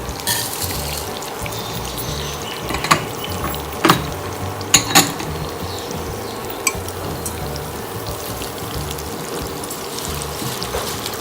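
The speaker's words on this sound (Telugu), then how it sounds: "ఈ తాలింపు వేగేలోపు మనం అటుకులు ఒకసారి వాష్ చేసుకుందాము." Flattened rice (poha) is rinsed under running water while a tempering fries nearby, giving a steady close wash of water and sizzle with a few sharp clinks of utensils.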